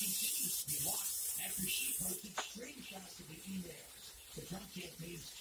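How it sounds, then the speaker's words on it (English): Nonstick cooking spray hisses onto a nonstick pan for pizza in a home kitchen, a steady loud spray lasting about two seconds before stopping, followed by quieter handling noises and faint talk. "Spray it down."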